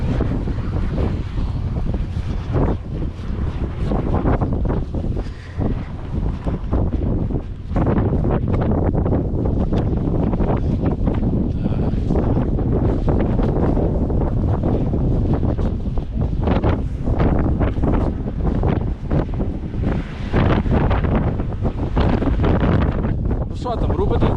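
Strong wind buffets the microphone outdoors during an off-road drive in Zakarpattia, a constant loud rumbling roar that runs the whole time with no clear speech.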